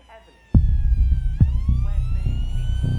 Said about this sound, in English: a police car turning up outside, soon followed by an ambulance